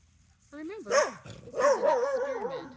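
A dog barks in a yard with short yips and bow-wow calls, fairly close, mixed in with someone speaking over it.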